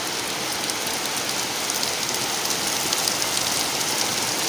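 Heavy rain pours down in a steady, dense roar of drops with no pauses and no voices.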